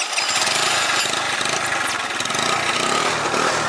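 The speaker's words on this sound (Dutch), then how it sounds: "Gaan we even horen hoe het Turbo Kit uitlaat klinkt" A tuned moped fitted with a Turbo Kit exhaust, a small two-stroke engine running close by, buzzes loudly and continuously with rising and falling revs, raspy and unmuffled.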